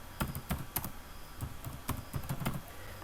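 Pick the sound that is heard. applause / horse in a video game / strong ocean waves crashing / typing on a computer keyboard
typing on a computer keyboard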